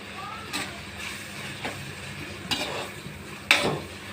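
Tomatoes frying in oil with turmeric in a pan, a soft continuous sizzle with a few spoon scrapes and taps from stirring, close and fairly quiet.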